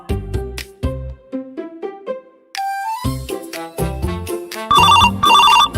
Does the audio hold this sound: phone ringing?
yes